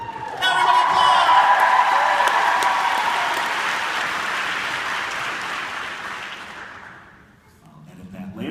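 Audience applause bursting in loudly, dense and sustained, with scattered whoops, then gradually thinning and fading out before a voice returns at the end.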